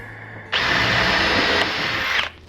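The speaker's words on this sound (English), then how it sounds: "anytime you're drilling with an aluminum boat" A power drill whirs loudly and steadily into an aluminum boat for about two seconds, starting abruptly and cutting off cleanly, with no voices.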